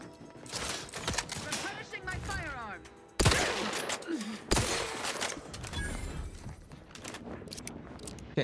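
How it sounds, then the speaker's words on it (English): Rapid bursts of gunfire ring out during a firefight in the video game The Outer Worlds 2, loud and dense, with repeated shots and sharp impacts over several seconds and a voice talking amid the shooting. "Okay, now stop shooting me."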